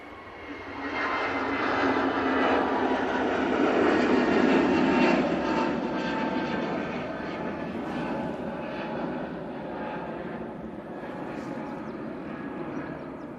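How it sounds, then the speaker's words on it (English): An easyJet Airbus A321neo bound for Malta takes off, its engines building into a loud, close, broadband roar that peaks after a few seconds, then holds as a steady, slightly softer rumble. "Easyjet on the roll. This is off to Malta using the A321neo for this flight."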